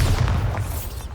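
A Bombarda spell blast in Hogwarts Legacy, a single loud, heavy boom with a deep rumbling body that carries through the whole short moment.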